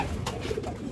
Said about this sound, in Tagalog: nakawin na yung mga ibon ni Isko